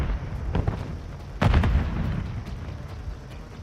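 A grenade goes off in a military shooter game, one sharp loud blast followed by a rumbling decay over steady background battle noise.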